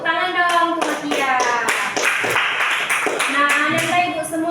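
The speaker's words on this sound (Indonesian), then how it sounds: "Tepuk tangan dong untuk Makia." Children in a school classroom clap their hands together for a classmate, brisk rhythmic claps under a teacher's voice talking throughout.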